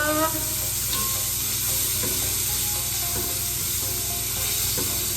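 Garlic and onions sizzle steadily in a frying pan while being stirred, a continuous close hiss with occasional scraping of the spoon, no voices.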